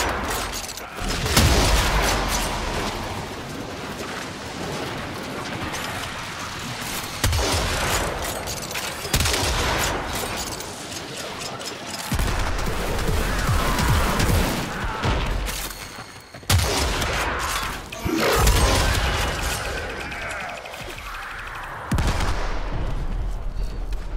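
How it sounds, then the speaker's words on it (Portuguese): Grenades and gunfire rip through a Warframe mission in heavy, repeated bursts, with loud booms and rapid shots arriving in clustered volleys separated by brief lulls, all close and dominant. "Granada atacando para todo lado"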